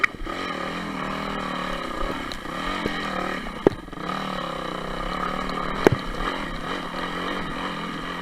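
A dirt bike engine drones steadily while the rider moves along, with a few sharp clatters and knocks over the continuous, moderately loud motor hum.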